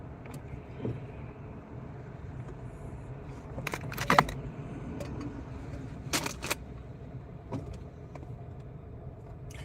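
A car drives along with steady low road and engine rumble, punctuated by several sharp clicks and rattles inside the cabin; no speech.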